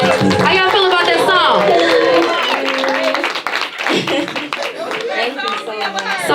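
Hands clap steadily from an audience at a live meet-and-greet event, dense rapid patter cheering a performer while voices talk and call out over it throughout.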